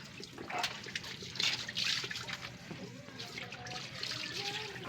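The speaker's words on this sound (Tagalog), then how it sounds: "malakas ang buhos ng tubig." Strong flow of water pouring into a well with a clean sand filter, a continuous splashing trickle with bursts of spray, moderately faint, with a voice speaking over it.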